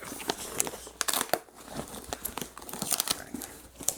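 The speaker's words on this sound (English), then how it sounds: "let me tear this box open" Someone tears open the packaging of a McFarlane sports figure by hand, close up: quick bursts of ripping cardboard and crinkling plastic in an irregular, crackly stream.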